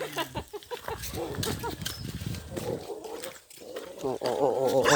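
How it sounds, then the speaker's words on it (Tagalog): A dog barking hoarsely and roughly in a backyard during a mango-picking outing, several ragged barks mixed with people talking nearby. "Ano tong aso na to? Ayusin mo yung tahol mo."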